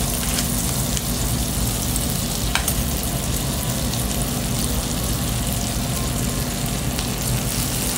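Butter melts in a pan for homemade red sauce pasta, a steady dense sizzle and crackle that carries on without a break, close and fairly loud, with no talking.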